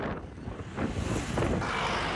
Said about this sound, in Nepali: तर हावा लागिरहेछ